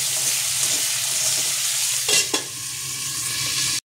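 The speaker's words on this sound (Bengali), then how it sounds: "মাছের মাথাটা আমি লাল লাল করে কড়া করে ভাজবো" Fish head frying in hot oil for a Bengali cabbage curry, a steady close sizzle running throughout with a couple of brief louder crackles or stirring knocks near the middle, ending abruptly.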